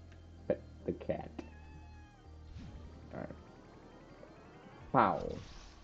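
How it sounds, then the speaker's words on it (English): Cat meows several times, short and faint, alongside music and game sounds from a Celeste Strawberry Jam map, with a person talking over it. "The cat."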